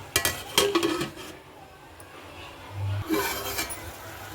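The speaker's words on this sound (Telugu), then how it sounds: "ఇప్పుడు మూత పెట్టేస్తున్నాను" Close metallic clinks and clatter as a lid is set on a cooking pot of tomato masala with salt, for a prawn and broad bean curry: a quick burst of rattles, a quiet pause, then another short clank.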